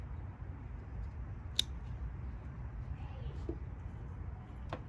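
Pruning shears snip branches of a willow leaf ficus, giving a few faint, sharp clicks spaced across several seconds against a quiet room background.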